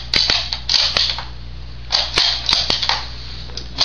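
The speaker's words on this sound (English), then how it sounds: "It's considered by many to be the fastest military bolt action, at least. It operates really smoothly." A Lee-Enfield SMLE bolt-action rifle's bolt is worked rapidly, giving a series of sharp metallic clacks and sliding rattles close up, repeated several times over a few seconds.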